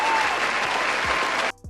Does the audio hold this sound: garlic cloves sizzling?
no